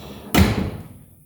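A worn car trunk lid with its rubber seal missing is shut once with a single dull thump, followed by a short fading rattle, fairly close and with no talking.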